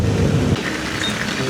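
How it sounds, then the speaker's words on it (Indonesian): Heavy rain and strong wind buffet a rider on a motorbike ride from Bali toward Bondowoso, a loud continuous windy roar with a low rumble fading after the first half-second. "Hujan angin guys, lumayan kencang anginnya."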